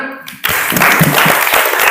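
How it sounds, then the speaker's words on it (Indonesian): Students in a classroom break into applause, a short dense burst of clapping that starts abruptly and continues steadily, close and fairly loud. "Oke, tepuk tangan"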